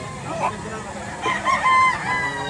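A bull stag rooster crows once at moderate distance, its call rising over outdoor background noise at a market in Lipa, Batangas.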